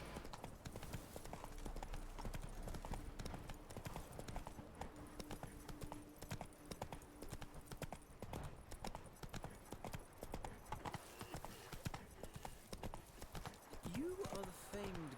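Geralt's horse Roach in The Witcher 3 clip-clops in a steady, continuous hoofbeat rhythm throughout, with voices talking over it.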